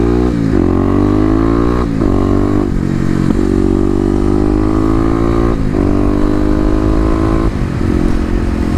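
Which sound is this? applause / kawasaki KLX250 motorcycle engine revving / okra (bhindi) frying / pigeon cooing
kawasaki KLX250 motorcycle engine revving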